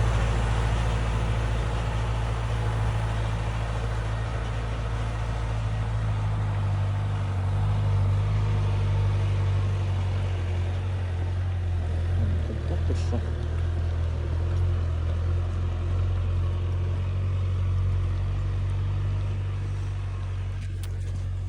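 Mazda car driving along a rough rural dirt road, a steady loud low engine and road rumble from inside the cabin with faint rattles and bumps throughout.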